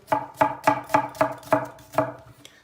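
An onion being chopped with a knife on a board, seven crisp, evenly spaced cuts about a quarter second apart, close and distinct with nothing else underneath.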